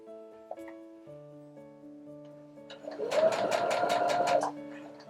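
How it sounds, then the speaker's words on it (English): A sewing machine stitches around the edge of a pillow in a rapid, rhythmic burst of needle strokes lasting about a second and a half, preceded by softer tonal hums and handling noise. "Now we're going to continue sewing around the entire edge of the pillow."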